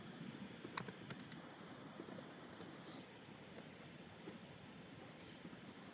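A search term is typed on a computer keyboard: a short burst of quiet, sharp key clicks in quick succession, faint against a steady background hiss.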